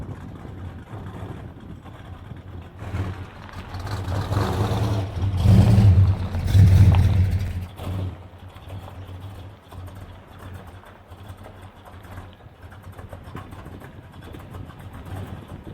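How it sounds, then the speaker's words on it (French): An old classic car engine, a Firebird or a Chevrolet C10, idles after starting, with a low steady rumble that swells as the throttle is held up for a few seconds before settling back to a quieter idle. "il démarre bien et après là je suis obligé de maintenir, sinon il va caler"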